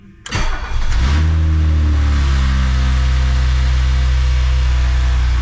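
A cold BMW E30 engine starts with a brief crank, then settles into a steady, loud idle with a low droning exhaust note, close to the car, an older muffler adding a slight rasp.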